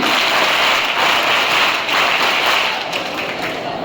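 A classroom full of students breaks into a steady round of clapping for a maths teacher, dense and even throughout, fading a little toward the end.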